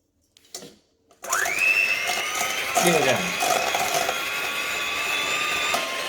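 A food processor starts up after a brief pause and runs continuously with a high, steady motor whine, beating a keto halva cake mixture, close and loud.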